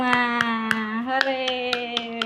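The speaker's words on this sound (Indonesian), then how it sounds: "Tepuk tangan untuk kita semua." Sharp, evenly spaced hand claps, about eight, cut through a sustained voice at a school orientation session on mental development.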